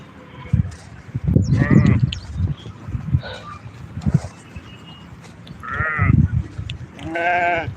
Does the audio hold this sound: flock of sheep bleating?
yes